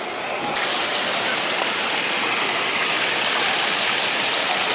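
Loud, continuous rush of splashing water, dense and unbroken throughout, close by with no clear speech.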